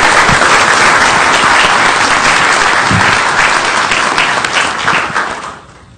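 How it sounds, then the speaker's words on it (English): A city council meeting crowd gives the color guard loud, sustained applause that holds steady for several seconds, then tapers off and fades out at the end. "So give them a big round of applause."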